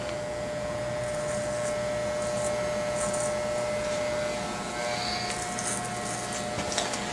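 Electric clippers shaving a man's neckline, a steady close buzzing hum with a constant tone and slight scraping texture as the blade moves over skin.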